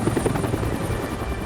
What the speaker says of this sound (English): One by one, the choppers came and left with their cargo.